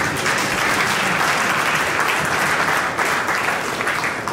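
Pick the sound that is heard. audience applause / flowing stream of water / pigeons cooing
audience applause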